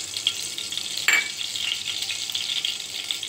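Ghee hits hot refined oil in a pan for pulao and sizzles steadily close by, with a brief louder crackle early on and no talking.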